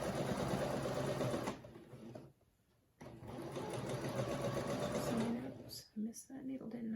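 A sewing machine runs steadily while stitching scrappy granny quilt squares with pinked edges under a quarter-inch foot, sewing right over pins; the motor whirs in long bursts with a brief pause midway and a short stop near the end.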